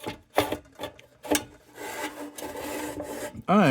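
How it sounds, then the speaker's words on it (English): A wire wheel scrubs the inner parts of an Embury No.0 Air Pilot hot blast brass lantern during restoration, giving bursts of gritty, rasping scrubbing that rise and fall in strokes, close and fairly loud, alone without talk. "we're going to wire a wheel here"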